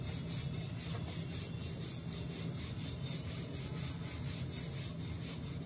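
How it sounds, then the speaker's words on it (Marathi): A rolling pin rolls out moong dal puran poli dough on a board, making a steady, rhythmic rubbing and scraping with regular back-and-forth strokes, close and continuous, with no talking. "आता पुन्हा ही पोळी पूर्ण लाटून घेते"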